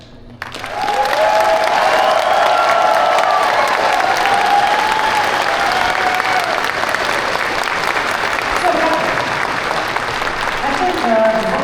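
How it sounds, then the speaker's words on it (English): A large crowd at the Anthrocon 2025 closing ceremony claps in sustained, loud applause that rises quickly and holds steady, with scattered voices and faint cheering mixed in. "one more round of applause for the people who make anthrocon happen"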